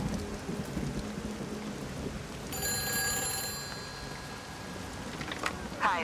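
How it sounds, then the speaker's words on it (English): A payphone rings in the video game Everybody's Gone to the Rapture, a faint ringing tone heard midway over steady rain-like ambience. "Oh, it was the payphone all along."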